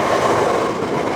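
A Southeastern train passes through Chislehurst station, a loud, steady rolling rumble of wheels and carriages that fills the whole moment without letting up.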